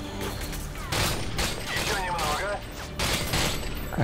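Gunfire in the video game Call of Duty: Modern Warfare 2 during a special operations mission, with repeated loud bursts of shots and mechanical clatter, while a voice talks over the action.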